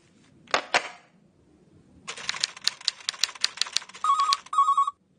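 After a burst of quick mechanical clicking like typing, a telephone bell rings in short repeated trills near the end, close and clear with no talk.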